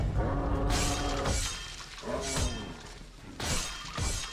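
Glass shattering in Overlord II: three separate crashes of breaking glass, each a bright burst with tinkling falloff, loud and close, spaced about a second apart.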